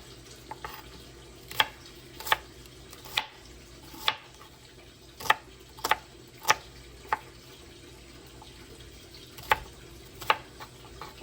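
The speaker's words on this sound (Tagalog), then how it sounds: "Ayan, sibuyas at saka yung ginger at kamatis. So, hiwain lang natin." A knife chops onion, ginger and tomato on a cutting board for a mussel soup, giving sharp, irregular taps spaced across the stretch, some in quick pairs, over a quiet room hum with no talking.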